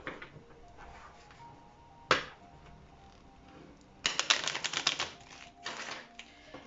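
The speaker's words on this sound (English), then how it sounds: "Another shuffle." Tarot deck being shuffled by hand in short riffling bursts, a sharp snap near two seconds and a denser run of flicking card sounds from about four to six seconds, close and moderately loud.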